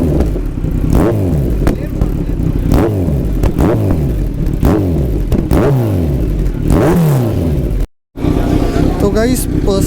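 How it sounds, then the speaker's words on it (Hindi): Revs from a Kawasaki Z900 motorcycle with an aftermarket exhaust and its dB killer removed: loud, deep repeated throttle blips rising and falling close by, with a brief cut near the end and a voice talking underneath. "तो DB किलर थोड़ा निकाल के आपको इसकी आवाज़ सुनाते हैं।"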